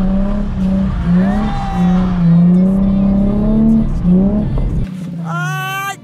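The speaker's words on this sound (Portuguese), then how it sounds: "E na hora de sair agora, ó, já sai queimando a embreagem e acelera." A car in a drift lesson accelerates hard with the clutch slipping, its engine drone climbing and surging steadily up close before a short, high tire squeal breaks out at the end.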